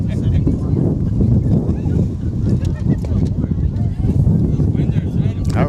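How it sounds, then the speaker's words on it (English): A strong wind gust buffets the microphone at an outdoor high school baseball game, a loud continuous low rumble and roar with people talking over it. "we got a nice little wind gust there."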